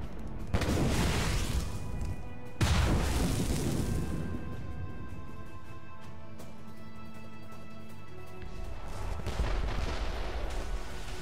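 Ships' cannons fire in a naval battle in Assassin's Creed Rogue, with two heavy booms rolling out into long rumbling decays and a third, softer volley near the end.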